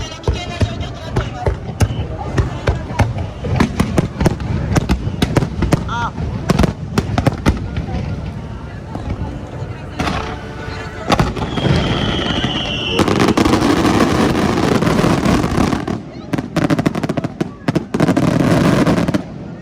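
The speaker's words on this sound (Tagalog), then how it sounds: "lahat ng mga ng paputok nasa amin na" Rapid volleys of loud firework bangs and crackles burst one after another at a fireworks festival in Toyohashi, with a whistling rocket streaking by and a dense crackling barrage near the end.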